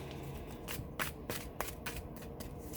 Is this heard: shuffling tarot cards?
yes